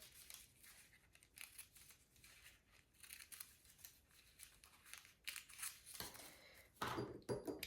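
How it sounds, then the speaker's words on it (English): Scissors cut paper rectangles for a Christmas cottage craft, making a quiet, close series of crisp repeated snips, followed near the end by louder paper rustling and crinkling, with no talking. "I'm going to cut that out and cut a few rectangles the size of the windows, just a little bigger."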